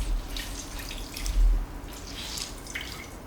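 Water dripping and trickling from egg carton papier-mâché pulp as it is squeezed out by hand, soft wet patters and splashes at close range, a few quiet drips scattered over a few seconds.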